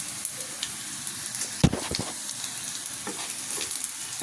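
Garlic and onion fry in hot oil for red amaranth greens, a steady close sizzle with a few louder scraping stirs near the middle.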